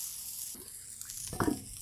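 Pork chops sear on a Blackstone griddle with short, faint sizzles and a few stirring scrapes in a quiet stretch of cooking.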